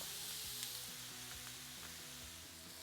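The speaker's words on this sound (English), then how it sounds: "nice and even, so that every wing is basically touching the surface. And now we just let them cook." Chicken wings spread in an even layer sizzle on a Blackstone griddle with a soft, continuous frying hiss. A quiet tonal melody plays underneath.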